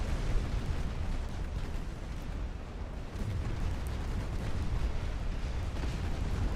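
Ships are hit by torpedo explosions in a naval war video game, heard as a dense, continuous rumble of booming blasts with no pause.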